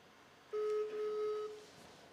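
An iPhone on speakerphone places a call: a steady electronic tone holds for about a second, with a few faint higher beeps above it, over quiet room hiss.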